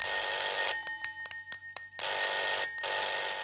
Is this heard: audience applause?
no